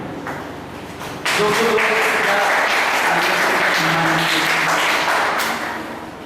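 Loud audience applause at a school science exhibition and magic show, swelling up suddenly after a brief quieter moment and holding steady as a dense crowd of clapping before easing slightly at the end.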